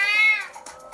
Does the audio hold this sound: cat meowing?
yes